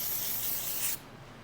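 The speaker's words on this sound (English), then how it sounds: "Let's get some spray." A short burst of cleaner sprayed from a can onto bearings for a 302 Ford engine, a close hissing spray that cuts off abruptly after about a second.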